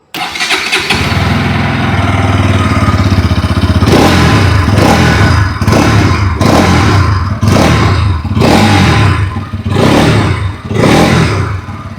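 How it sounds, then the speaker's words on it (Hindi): A Bajaj Pulsar NS 200 motorcycle engine cranks and starts, then settles into a loud, rumbling idle punctuated by a series of sharp throttle revs, close to the listener. "आइए अब सुन लेते हैं दोनों बाइक की एग्जॉस्ट नोट।"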